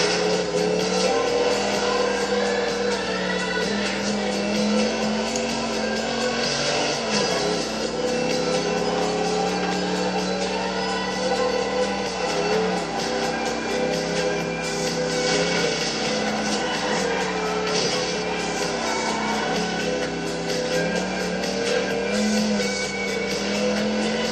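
GT supercar racing engines from a video game roar continuously at high revs, with steady loud whine and shifting pitch over the whole stretch, no speech.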